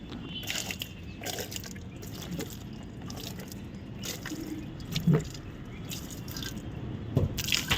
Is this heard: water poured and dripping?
yes